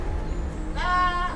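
A Kaligesing PE goat gives one short, wavering bleat near the end, heard up close over low background noise.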